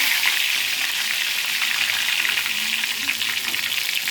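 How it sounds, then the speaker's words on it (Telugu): Curry leaves sizzling in hot oil in a pan with freshly fried chicken pakoda after the stove is switched off, a loud, steady, bright crackling hiss with small pops throughout. "ఆ వేడికి కరివేపాకు చక్కగా వేగిపోతుంది"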